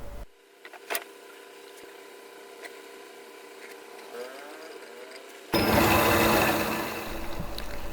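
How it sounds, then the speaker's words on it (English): A quiet workshop hum with faint clicks, then a power drill fitted with a milling slide suddenly starts and runs loudly for the final seconds, whining steadily as it cuts mortises in wood. "I am cutting mortises on drill with a milling slide attached on it."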